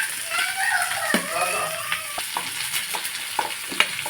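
Onion frying in hot oil with urad dal and curry leaves, a close continuous sizzle with scattered spatula scrapes and clicks while stirring.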